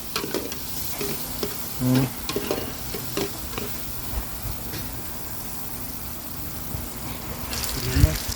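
Food being sautéed and stirred in a pan over a medium flame, a soft sizzle with occasional scraping stirs close by.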